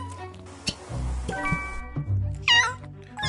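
A cat meows several times in a close indoor setting, short mewing calls scattered among faint household knocks, the last one higher and more drawn out.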